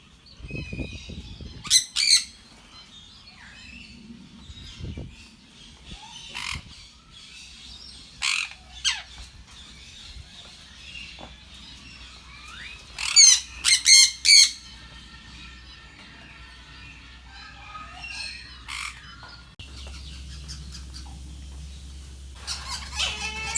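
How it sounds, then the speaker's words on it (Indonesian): Sharp, high calls and squawks of a green leafbird burst out in short clusters with quiet gaps between them, close and fairly loud over a low hum, at a bird park in Palembang. "Ini ada burung cicak hijau ya."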